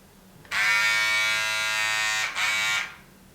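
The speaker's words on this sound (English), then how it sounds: "this one here is a long beard, so we need to grab that clipper" An electric hair clipper buzzes loudly and steadily as it trims a long beard at home, switching on after a brief quiet, dipping for a moment near the end, then cutting off.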